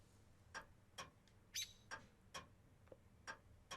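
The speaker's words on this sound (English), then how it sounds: "The little bird joyfully chirped at its master's mumbling." A little bird chirps in the video game Witch On The Holy Night, sounding as a series of short, bright, evenly spaced chirps. They are faint and close, with one brief squawk partway through.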